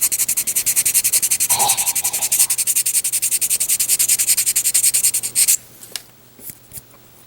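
Higher-grit sandpaper gently rubbed over a rough cast iron effect surface, a close, rhythmic back-and-forth scratching of quick even strokes that stops abruptly, followed by a few faint handling taps.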